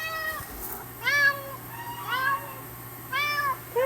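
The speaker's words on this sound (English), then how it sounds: "Patches the barn cat with the really thick fur." A thick-furred barn cat on a Wisconsin farm meows four times in a row, close and fairly loud, over a low steady hum during a blizzard.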